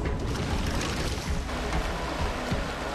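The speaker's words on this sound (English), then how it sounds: "We fought through the waves, hoping to keep the equipment and ourselves from tumbling overboard." Rustic canoes paddling across choppy ocean waves, with a constant wash of surf and water churning near the hull, plus low wind rumble buffeting the microphone throughout, steady and fairly quiet.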